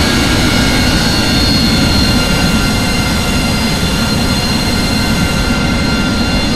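Steady roaring jet engine noise from a military jet aircraft with thrust reverser deployed in the DCS flight simulator game, a loud, continuous broadband rumble and whine that holds constant throughout without talk.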